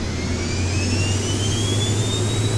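A Cirrus SF-50 Vision jet engine in the X-Plane flight simulator gives a steady, loud whine, with a low rumble underneath and thin high tones slowly climbing as the throttle opens. No voices.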